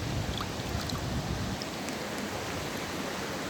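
A small waterfall pours in a steady, dense rush of flowing water, close and loud throughout, with the low rumble easing slightly partway through.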